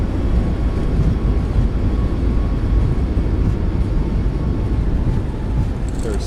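A Boeing 737 MAX 8 landing rollout brings a loud, continuous rumbling roar with its thrust reversers deployed, heavy in the low end and even throughout, with no talk over it.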